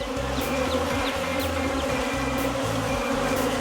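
Honey bees swarm around an opened hive on a farm during hive work, a dense, close buzzing drone with individual bees whizzing past the microphone throughout.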